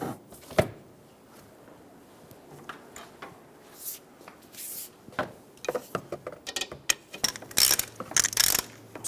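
A ratchet tightens an engine mount bolt on a 2007-2011 Toyota Camry with a 2.4L four-cylinder, sporadic clicks at first, then quick bursts of close, sharp ratcheting clatter building toward the end.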